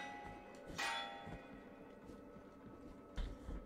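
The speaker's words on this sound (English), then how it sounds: "Why is that bell different than the rest of them?" A bell in the Blasphemous video game strikes twice, a bright clang early and a softer one near the end, each ringing out over a low steady background hum.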